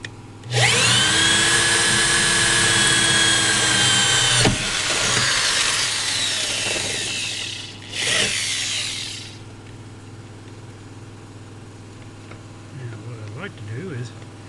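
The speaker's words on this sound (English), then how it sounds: "Not a good angle to try to drill from." A power drill whirs loudly and steadily for about four seconds while boring into the body of a 1978 GMC/Chevy stepside pickup truck, then runs in a shorter second burst, with quiet rustling and handling noises afterward.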